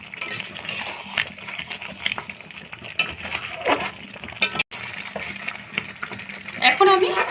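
Pointed gourd cooking with yogurt and sugar in a pan, with a low sizzle under repeated stirring scrapes and occasional utensil clinks, close by, with a voice talking over parts of it.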